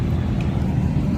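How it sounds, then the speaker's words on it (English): A Lamborghini Aventador at the GoldRush Rally car event at Radford Racing School in Chandler, Arizona gives a brief, loud, steady engine roar heavy in deep rumble. "That thing is one of the loudest Aventadors ever."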